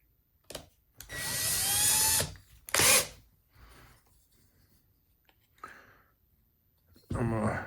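A power drill runs in bursts while a Singer Confidence 7640 sewing machine is serviced, with a long whir, a short burst and fainter tool clicks between, close up and loud.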